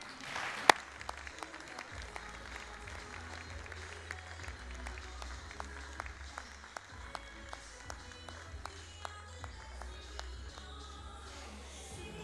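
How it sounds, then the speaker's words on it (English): Scattered audience applause at a sports awards ceremony, a modest crowd clapping at moderate level with a few sharp, distinct claps standing out against a low background hum. "Big round of applause, please,"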